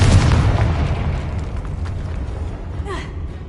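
In Hogwarts Legacy, a Confringo fire spell lands as a heavy boom at the start, then a rumbling roar fades slowly, and a short swooping tonal effect follows near the end.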